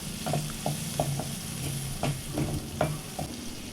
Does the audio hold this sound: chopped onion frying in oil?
yes